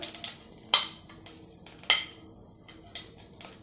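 Cumin seeds dropped into hot oil for a spicy misal crackle and sizzle up close, with a few sharp pops and stirring scrapes in a pan and no voices.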